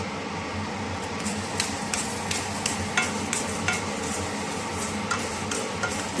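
A spoon stirs roasting nuts and lentils with cardamom in a pan, with repeated scraping strokes over a steady low sizzle, close and moderately loud, with no talking.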